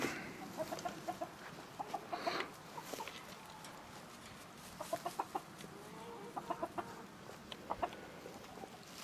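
Araucana hens clucking inside their coop, soft short bursts of clucks in small clusters with quiet gaps between, fairly faint against a low background hiss.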